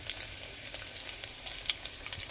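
Cumin, mustard seeds and crushed garlic fry in hot oil, giving a steady, moderately faint sizzle with scattered small crackles and pops, no voices.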